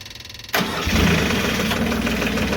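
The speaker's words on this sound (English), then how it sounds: "to start this mill up, turn the key on, you hold down the green button, it'll turn on the fuel pump, and then it'll actually crank the engine" The engine of a Timberking 1400 sawmill cranks with a quick rhythmic starter chug, then catches and fires up into a loud, steady idle close by.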